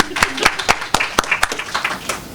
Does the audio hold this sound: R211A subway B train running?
no